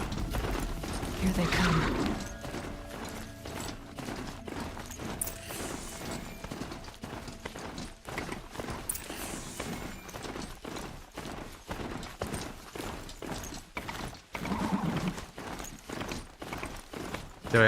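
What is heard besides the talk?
galloping mount hoofbeats in video game Horizon Zero Dawn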